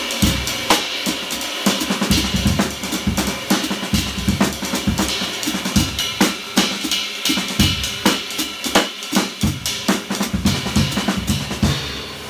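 Drum kit plays a Latin jazz cascara pattern at medium tempo: crisp, steady shell and cymbal strokes over kick and tom accents, loud, close and unaccompanied.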